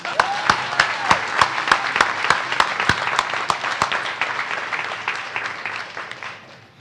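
A small audience claps at the opening of a Fresh & Easy grocery store in Bayview, a steady round of sharp individual claps near at hand that thins and fades out over several seconds, with no voices over it.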